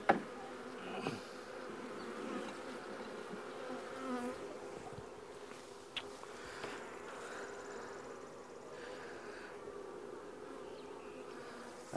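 Honey bees buzzing around nucs being added to new hives, with no bee suit or smoker: a continuous close swarm drone with individual bees zipping past the microphone and faint handling knocks.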